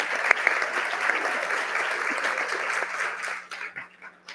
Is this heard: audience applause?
yes